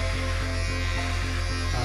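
An electric razor buzzes steadily and close by during a shave at home, with a strong, even motor hum that pulses rhythmically through the whole stretch and no voices.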